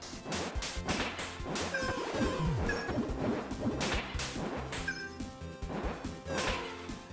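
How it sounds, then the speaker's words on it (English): Octonauts Xbox One game sound effects crash and shatter in quick succession, glassy vase-breaking bursts over busy laser zaps and whooshes. "That's a pretty good vase breaking sound."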